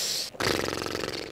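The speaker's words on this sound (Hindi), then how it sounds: "अबे भाई साहब कितने खर्राटे ले रहे हो तुम लोग?" A single short, close snore from a character sleeping in a modded GTA V video game, with a brief pause before a rough, rattling breath.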